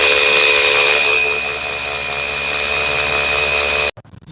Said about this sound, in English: When you're drilling into things like cinder block, you're going to want to use the hammer mode if you have it